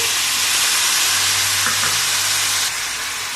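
A splash of water poured over sugared vermicelli in a hot pan, a loud continuous hiss and sizzle that eases slightly near the end, with no voices.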